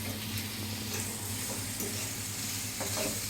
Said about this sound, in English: I'm gonna allow this to go and stir fry in the pot